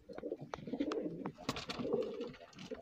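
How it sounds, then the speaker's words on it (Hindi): Jersey pigeons coo softly and repeatedly with low, throaty warbles, mixed with faint clicks and rustling, at a quiet level. "ये भी जर्सी कबूतर है"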